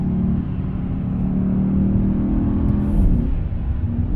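A Mercedes E 63 S AMG sedan with 612 hp, its engine droning in a steady deep rumble from inside the car, rising slightly as it pulls, with gearbox whir under it.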